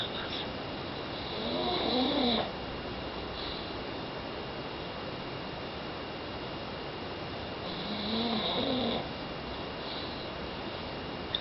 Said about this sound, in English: My snoring baby.